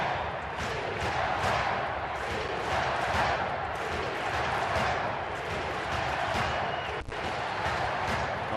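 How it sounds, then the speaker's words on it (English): A home crowd at a Los Angeles at Arizona baseball game in 2011, chanting "Beat LA" as the count runs full. The crowd noise is loud and steady, with faint rhythmic pulses of the chant running through it. "Home crowd chants beat LA"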